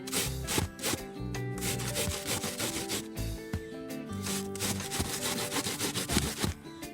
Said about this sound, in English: we will now grate the onion